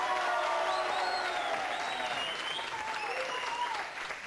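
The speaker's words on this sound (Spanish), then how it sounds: "Aplausos para el número dos." Studio audience applause at a televised contestant vote, steady dense clapping with faint whistles and tones layered over it, continuous for about four seconds and easing slightly at the end.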